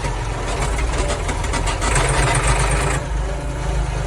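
Engine of a Massey Ferguson 240 S tractor fitted with a heavy original cab, running in fourth gear as the throttle is opened fully, a loud, steady rough drone with a dense rumbling low end and a slight dip near the end; no speech.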